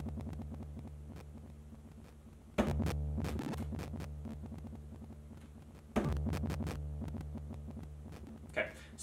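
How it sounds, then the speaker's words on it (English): An Elektron Model:Samples runs a graintable patch with a random LFO shifting the sample start point, giving a steady droning tone full of crackly, jittery static and a few sharper bursts. "there's this kind of crazy static stuff because the LFO is now randomly kind of changing the start point as the file plays"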